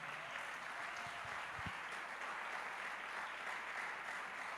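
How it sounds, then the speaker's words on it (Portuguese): A church congregation applauds to welcome a visiting presbyter during an evangelical service, a quiet, steady wash of clapping that continues evenly throughout. "nós recebemos com os aplausos"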